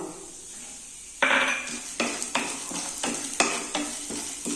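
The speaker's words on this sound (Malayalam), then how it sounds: "ഫ്ലെയിം ഒന്ന് കുറച്ച് വെച്ചിട്ട് ലോ ഫ്ലെയിമിൽ ഇട്ടിട്ട് അങ്ങനെ മൂപ്പിച്ചാൽ മതി" Black pepper and fenugreek seeds roasting dry in a pan over a low flame, heard as a run of sharp rattling scrapes and spoon strokes about twice a second after a quiet start, close by, with no speech.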